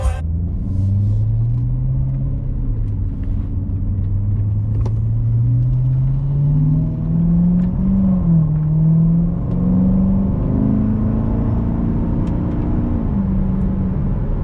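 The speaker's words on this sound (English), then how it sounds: "Car sounds so good." A Corvette's deep engine rumbles steadily for the whole stretch, its pitch slowly rising and falling as it idles and revs a little, with no talking.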